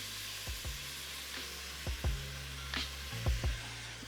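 Crushed tomatoes and ginger garlic paste sizzle and fry steadily in a hot pan, with a few brief scraping stirs of a utensil breaking through the continuous hiss, close up and without talk.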